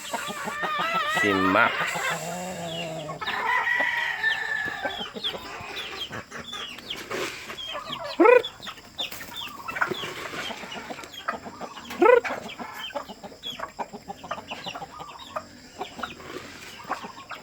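A Shamo chicken named Max clucks on a farm, giving a few short, close clucks amid scattered farmyard noises and pauses, with a person talking at times.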